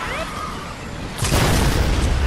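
A rocket launcher's rocket explodes in Fortnite during a demolition of Tilted Towers, a sudden loud boom about midway that lingers as a broad rumbling blast over preceding game noise.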